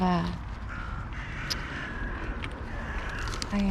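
Crows caw in short harsh calls while being handed walnuts outdoors, a few scattered calls over steady background noise with a person speaking briefly nearby.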